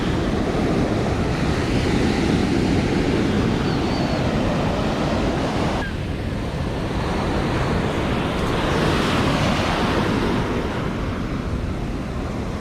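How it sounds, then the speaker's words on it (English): Ocean waves crash continuously on Copacabana beach in Rio de Janeiro, a loud, unbroken roar of surf mixed with wind rushing across the microphone, with no voices. "the rhythmic sound of the waves crashing"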